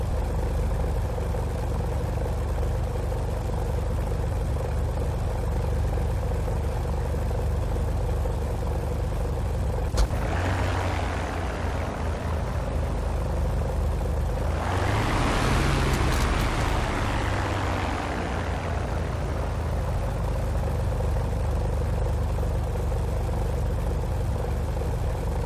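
TF-51D Mustang engine idling at about 1,500 RPM in a VR flight simulator, a steady low droning rumble throughout, with two brief swelling surges of broadband noise midway.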